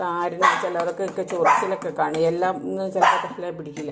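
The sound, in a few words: dog barking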